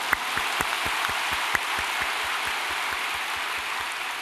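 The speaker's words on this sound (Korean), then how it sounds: "박수를 치니 좋은데 나도 한번 치겠습니다" A church congregation claps together in steady, sustained applause, a dense even patter of many hands with a few sharper individual claps, filling the room with no talking.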